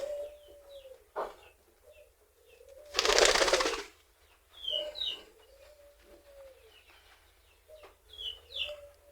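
Pet pigeons coo in soft repeated low calls at close range, interrupted by a brief burst of wing flapping or rustling, with faint higher chirps in the background.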